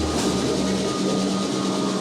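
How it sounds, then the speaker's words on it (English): A train pulls into a station in Australia, a steady close rumble of rail cars with faint wheel noise, short and continuous, no talking. "Here comes another train."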